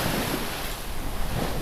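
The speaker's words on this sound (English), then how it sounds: "confused waves." Confused, choppy ocean waves in the Gulf Stream, heard from a singlehanded sailboat crossing; a steady wash of surf and wind noise fills the whole stretch with irregular swells of water sound and no talk.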